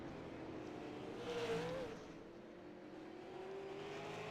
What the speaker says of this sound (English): I hear a car drifting down the track.